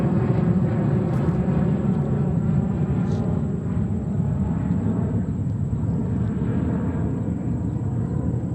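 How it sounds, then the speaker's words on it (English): An Aer Lingus Airbus A330-300 airliner inbound at New York JFK airport makes a continuous low, broad jet rumble that holds steady throughout, fairly loud and without speech. "we have another inbound. That is Shamrock Aer Lingus, Flight 105 from Dublin in Ireland, 330-300."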